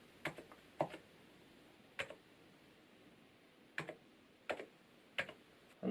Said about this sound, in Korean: 이 여기 안내되어 있는 이 코드를 바로 키보드에 입력해 줍니다